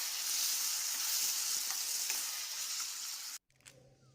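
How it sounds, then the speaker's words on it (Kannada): Vangi bath gojju with tamarind and fresh peas in oil sizzles steadily and loudly in a pan for over three seconds, then cuts off abruptly, leaving a faint clatter. "ಈಗ ಇದಕ್ಕೆ ಹುಣಸೆ ಹುಳಿ ಹಾಕ್ಕೊಳ್ತೇನೆ ಇದನ್ನು ಬೇಯಿಸ್ಕೊಳ್ಳೋಣ ಸ್ವಲ್ಪ ಹೊತ್ತು"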